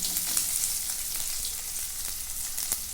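Steady sizzling of finely chopped onions frying in hot oil, with a constant crackling hiss and occasional louder pops, no voices.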